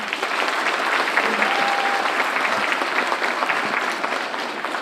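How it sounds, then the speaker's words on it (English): An audience at a Communications Studies speech competition gives a sustained round of applause, dense and even clapping from a crowd filling the whole span without pause. "Let's give them all another round of applause."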